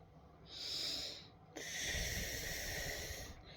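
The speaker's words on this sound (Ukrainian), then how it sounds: "Піднімаємо його догори, посміхаємося і дихаємо на кінчик язика." Two breathy exhalations blown onto the tip of the tongue during a children's breathing exercise. They come as close, soft hisses, a shorter one followed by a longer, steadier one, with no talking.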